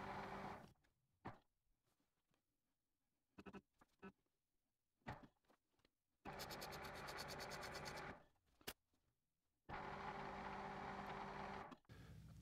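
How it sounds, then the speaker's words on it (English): Imperial metal lathe cutting a metric thread inside a bore of a lead screw nut, heard as repeated short passes: brief ticks and clicks, then two longer steady mechanical whirring runs, with quiet gaps between. "this is an imperial lathe and I'm cutting a metric thread"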